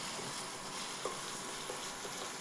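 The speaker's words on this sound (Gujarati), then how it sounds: "હવે જો આ ટમેટા અને આની અંદર આદુ લસણનો પેસ્ટ ઉમેરેલો છે તો આપણે એ નાખી દઈએ" Tomatoes and ginger-garlic paste go into a pan of browned frying onions, giving a steady broad sizzle throughout with a few faint stirring clicks and no talking.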